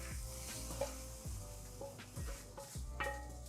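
Carrots and onions sweat in a pan with a steady low sizzle, broken by soft stirring scrapes and clinks, close and fairly quiet.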